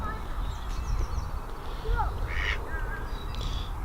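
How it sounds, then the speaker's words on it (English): A duck at a dry, sparse pond gives a few short quacks and honking calls, mid-distance, over steady background rumble and wind, while people talk nearby. "the duck seems quite happy"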